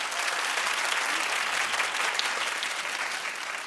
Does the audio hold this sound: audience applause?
yes